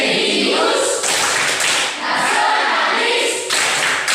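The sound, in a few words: students clapping the Tepuk PPK rhythmic clap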